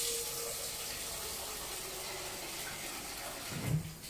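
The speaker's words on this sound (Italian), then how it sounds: "allora prendiamo una pentola con un poco d'acqua fresca" Cold tap water pours into a cooking pot in a steady, close rush, ending with a brief clunk of the pot near the end.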